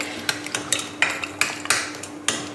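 A metal utensil clinks and scrapes against a bowl as fried ingredients are stirred into yogurt, irregular sharp taps spaced about every quarter second, close and clear over a faint steady hum.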